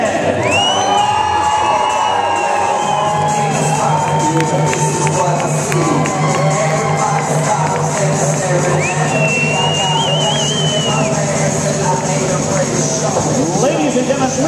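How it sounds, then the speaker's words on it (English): A wedding reception crowd at the Fall River Cultural Center cheers, whoops and shouts loudly and continuously for the groom's parents, with children's voices and excited chatter mixed into the dense, sustained roar. "how about a nice round of applause for the parents of the groom, Mr. and Mrs. Joseph Resendes"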